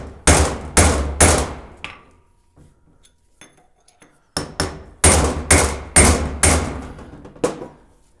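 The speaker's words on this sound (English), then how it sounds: "Take a punch and go down the center of the bolt hole." A punch is hammered into a bolt hole on a Ford 8.8 rear differential: loud, sharp metallic strikes close by, three in quick succession, a quiet gap with faint clinks, then a second run of five or six blows.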